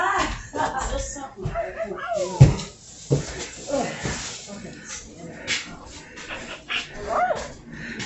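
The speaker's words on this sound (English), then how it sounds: "The dog started barking." A dog yips and whimpers in short bursts during household junk removal, moderately close, mixed with clattering items being handled while people talk throughout.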